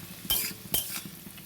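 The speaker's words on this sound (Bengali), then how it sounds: "আমার আলু আর পেঁয়াজটা ভাজা হয়ে গেছে।" Potato and onion fry in a pan under a soft sizzle as a utensil scrapes through them in two distinct sweeping stirs, close and quiet, with no talking.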